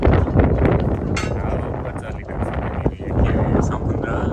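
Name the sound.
wind blowing at the seashore, Mustang Island, Texas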